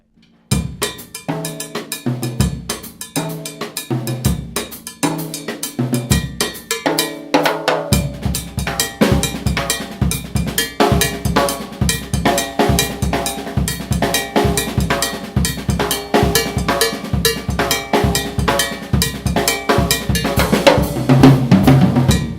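A cowbell taps out a repeating Afro-Cuban 6/8 bembé bell pattern in 3/2 clave, first alone, then joined by drums and percussion in a steady, driving groove that builds toward the end.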